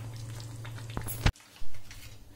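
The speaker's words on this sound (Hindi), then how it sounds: "मटन को हमने ग्रेवी में डाल दिया है, अब हम इसे 2 मिनट पकाएंगे।" Mutton simmering in a creamy Afghani-style gravy in a pan gives a steady low sizzle and bubbling, broken by a sharp clatter of utensil against pan partway through, then the gentle cooking hum resumes.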